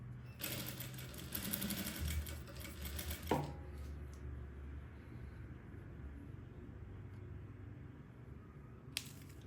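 A straight-stitch sewing machine running a trouser seam, a fast rattling whir for about three seconds that stops with a clunk, then a quiet room with a faint click near the end.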